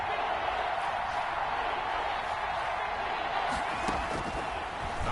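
Stadium crowd in a football video game, a steady wash of cheering and crowd roar heard throughout, fairly loud and unbroken, with faint thumps beneath.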